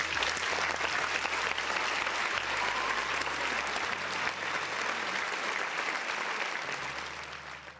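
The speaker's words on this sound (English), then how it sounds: "Round of applause for the people in the chat." Applause from a crowd in a large room: dense, steady clapping that holds at full strength for about eight seconds, then eases slightly at the end, with no talking.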